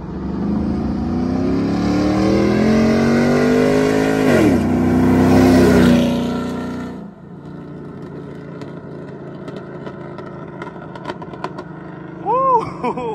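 A lifted 2005 Chevy Silverado on 24x12 chrome wheels with an 11-inch lift drives past, its engine revving loudly with rising pitch, peaking as it nears and then dropping away into quieter background noise.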